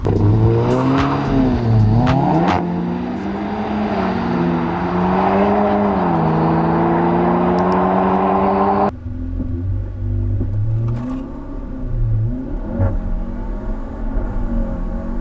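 A front-wheel-drive Vauxhall Corsa drag races a BMW, loud engines roaring and climbing through gears, then a sudden drop to a lower droning rumble as revs fall, close throughout.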